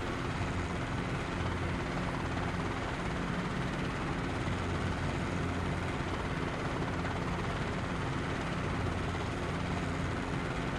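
A CH-47 Chinook helicopter in a flight simulator drones steadily throughout, a constant rotor and engine roar with no voices.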